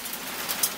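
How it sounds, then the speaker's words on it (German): Rain showers on a farm during a day of hail and rain, a soft, steady patter of drops with a few sharper taps, brief and without voices. "heute haben wir statt Sonnenschein Hagelschauer und Regenschauer"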